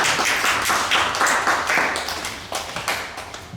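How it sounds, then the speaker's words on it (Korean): A church congregation claps together after a call to welcome returning members, a dense burst of hand claps that fills the room and gradually thins out over a few seconds. "박수 한번 해주시고요."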